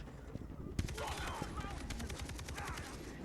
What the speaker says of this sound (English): Now we're doing alright shooting.